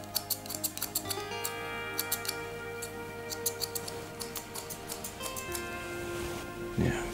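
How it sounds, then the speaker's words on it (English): Thinning scissors snipping the tips of long hair during a men's slicked-back taper fade haircut, close and crisp, producing a steady series of light metallic clicks over a quiet, humming salon background. "Now using my thin scissors, just use the tips of the hair"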